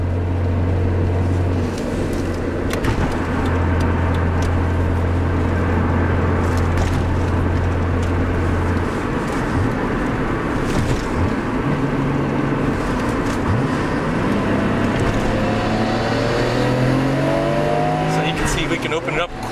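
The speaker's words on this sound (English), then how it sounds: "you can actually hear the turbo, I'm pretty sure" Nissan Skyline GTR R32 turbo engine idling and revving at a JDM car expo, a loud continuous engine drone with rising and falling rev sweeps toward the end, mixed with crowd noise and nearby talk.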